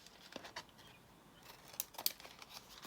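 Scissors trimming a piece of junk-mail paper for an altered-book craft tag, with a few faint, quiet snips and paper rustles spread across a short stretch.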